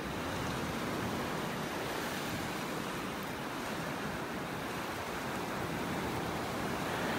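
Surf washing ashore at Roy's Beach in North Naples, Florida: a steady, fairly soft roar of breaking waves with some wind buffeting, continuous and even with no voices.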